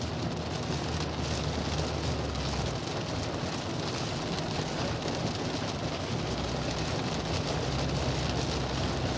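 Heavy rain from an approaching typhoon pounds steadily and loudly on a vehicle driving southbound on the SLEX expressway, a dense unbroken roar with low road rumble underneath.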